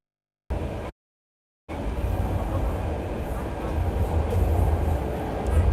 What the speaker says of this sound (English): This is our train.